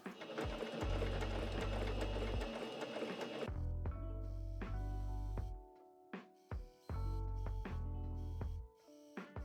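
A sewing machine stitches fabric in steady whirring bursts, one long continuous run followed by several short stop-start runs, close and fairly quiet.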